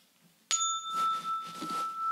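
A single bell struck once, a sharp clear ding followed by a long, steady ringing tone that sustains to the end, with a quiet voice murmuring faintly beneath it.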